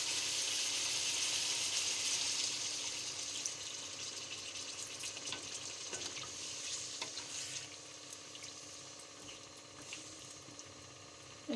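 Water poured into a pan of simmering potato chicken curry brings up a steady sizzle and bubbling that gradually eases, with faint stirring clinks near the end; no talking.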